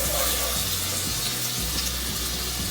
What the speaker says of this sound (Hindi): अब हम इसको फ्राई ब्राउन करते हैं।